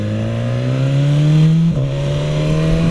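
BMW S1000XR motorcycle engine revving hard and close, pitch climbing steadily before a brief dip and recovery, loud with no talk.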